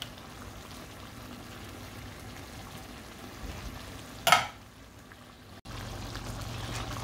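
Tomatoes cooking in a pan for chicken karahi, giving a steady low sizzle and bubbling with a brief sharp stirring clatter midway and a short break before the frying resumes.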